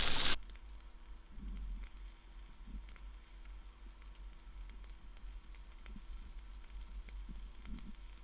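Scallops searing in a hot pan give a steady, moderate sizzle with a constant crackling hiss and occasional soft pops, heard alone after a brief loud burst at the start.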